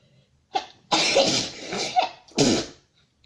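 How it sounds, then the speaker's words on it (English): Several sharp, explosive sneezes or coughs from a woman during a makeup session, close and loud, arriving in separate bursts with short pauses between them and no talking. "Sorry about the sneezing."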